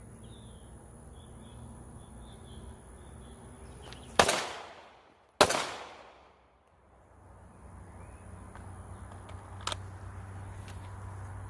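Two sharp, loud gunshots from a close encounter retention drill, fired about a second apart at an outdoor range, each cracking and then decaying. Quieter ambient background comes before and after, with a faint click near the end.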